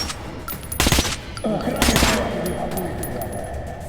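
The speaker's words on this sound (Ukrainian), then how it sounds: "Десь там вдалечі якийсь снайпер чи що" Two loud gunshot bursts crack out in Metro: Last Light, a sharp double report near one second and a longer rattle near two seconds, each trailing into rumbling echo and low background noise.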